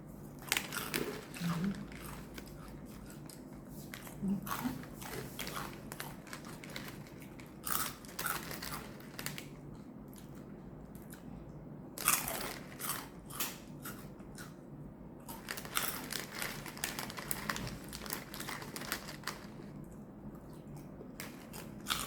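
Crispy pork rinds are bitten and crunched close up in a noodle-cooking setting, bursts of crackling crunches that come and go, with some speech in between.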